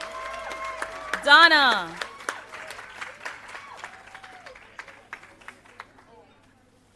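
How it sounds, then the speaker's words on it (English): Applause from a graduation ceremony audience swells briefly, mixed with a voice speaking over it and scattered claps trailing off toward the end. "Keep the applause going"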